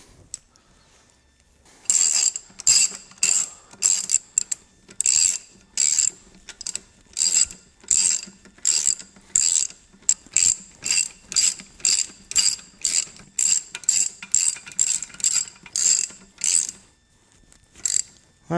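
A ratchet wrench tightens water pump bolts during impeller replacement, producing repeated bursts of sharp clicking strokes in a steady back-and-forth rhythm, loud and close, with brief pauses between groups and no talk.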